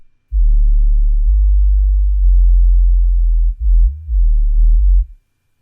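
Deep 808 bass with subharmonic mastering adding super low end: a long sustained booming sub tone that shifts pitch slightly, cuts out briefly, then returns for a final held note, loud and alone.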